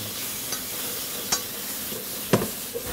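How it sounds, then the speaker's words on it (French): Smoked bacon lard melting in a dry pan, a steady close sizzle of frying fat with a few sharp pops and stirring scrapes, heard alone without talk. "On a commencé à faire fondre le gras."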